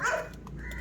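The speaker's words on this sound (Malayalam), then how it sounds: "പട്ടി കുരയ്ക്കുന്നു" A dog near a paddy field in Kozhikode gives a single short bark close by at the start, followed by quieter outdoor background.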